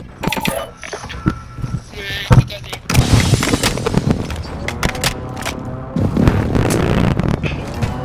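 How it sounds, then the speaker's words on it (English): Precision airstrike explosions in Call of Duty: Modern Warfare II Warzone, heavy booms and rumbling blasts landing in bursts, loud and close, with mechanical clatter and a voice talking over them. "Enemy precision airstrike."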